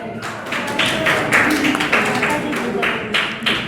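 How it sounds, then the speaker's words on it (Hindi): Group of people clapping in a Simon-says-style game at a Vishwakarma Day celebration in Faridabad, uneven bursts of claps through the whole stretch, with voices talking over them. "बाबा कहते हैं ताली बजाओ"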